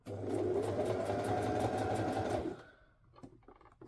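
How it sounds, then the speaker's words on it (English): A sewing machine stitches a princess seam on a coat with a steady, loud mechanical whir for about two and a half seconds, then stops, leaving faint handling clicks and rustles. "Don't try to sew the whole seam like really quickly."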